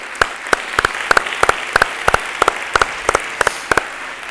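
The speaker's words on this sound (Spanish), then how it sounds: "Yo creo que os merecéis un segundo aplauso. O sea que aquí va mi aplauso." Sharp, evenly spaced handclaps ring out at a plenary conference session, a steady rhythmic beat of roughly three claps per second over a faint room background, with no talking.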